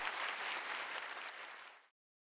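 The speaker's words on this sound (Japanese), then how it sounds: "会場を訪れた方々から盛大な拍手が送られていました" An audience applauds after a concert by the Tokyo Arakawa boys' and girls' choir, dense sustained clapping from a full hall that fades out and stops after about two seconds.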